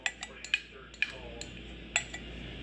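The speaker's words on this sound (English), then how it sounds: "And now mix in the wet and the dry ingredients together." A spoon clinks and scrapes against a bowl while wet and dry bread dough ingredients are mixed together, giving a handful of sharp, close taps in an uneven rhythm with quiet gaps between them.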